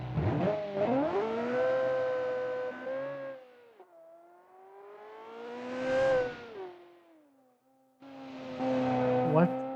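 A 1995 Ferrari 355 Berlinetta replica engine in the Automation car game revs in three sweeping rises and falls, each pitch climbing then dropping with brief pauses between.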